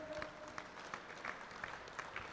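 An audience at a bank officers' association conference in a hall claps during an honoring ceremony, a faint, distant wash of many hands under steady room noise, with a brief tone at the start.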